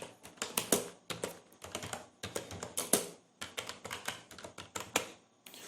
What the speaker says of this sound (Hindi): मैं मेरे चैनल का नाम टाइप कर रहा हूँ।